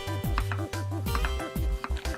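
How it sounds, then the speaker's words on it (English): A kitchen knife slicing thinly through melon on a chopping board, a quick series of close, crisp cuts and board taps in steady rhythm, with no talking. "So you can thinly slice it."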